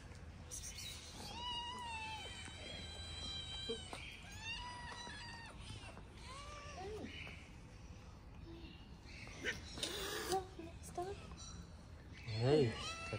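Kittens and their mother cats meow urgently for food, a string of repeated rising and falling cries at close range, with a person speaking quietly in between.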